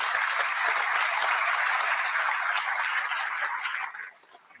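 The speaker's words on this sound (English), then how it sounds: "How about another round of applause for President Bounds" A college commencement audience gives a sustained round of broad applause that holds steady and then fades out near the end.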